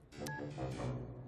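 Brief electronic tones from a phone keypad, a couple of quick beeps in succession heard faintly and close up with no voices.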